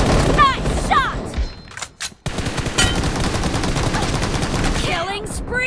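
Rapid automatic gunfire in the mobile shooter PUBG Mobile during a team deathmatch, with dense close bursts broken by a short pause and game effects over the top.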